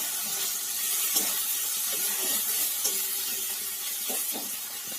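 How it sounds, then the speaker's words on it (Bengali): Ground spices with tomato and ginger fry in a pan, giving a steady soft sizzle and hiss with occasional brief scraping stirs, close and moderately loud throughout. "মশলাটা ভাজা হয়ে যাবে।"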